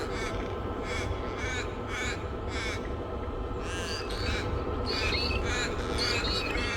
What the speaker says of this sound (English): So there are some crows sitting down here, or maybe raven.